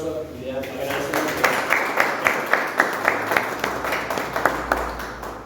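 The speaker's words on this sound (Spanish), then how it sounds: "Aquí le damos un aplauso y le agradecemos." An audience at a Spanish-language talk on drug trafficking and security applauds, a steady burst of clapping that grows clearer and more rhythmic and carries through the whole clip.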